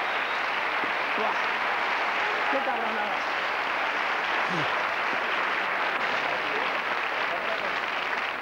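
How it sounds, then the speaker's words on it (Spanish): An audience gives a sustained ovation, a dense, even roar of clapping and cheering heard close up, while a voice calls out over it. "La ovación, por favor, para ellos."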